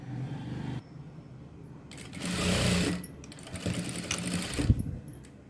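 A sewing machine stitches a straight seam on a blouse: two bursts of rapid, close mechanical whirring, the second rising and then ending in a thump, with quieter gaps between them.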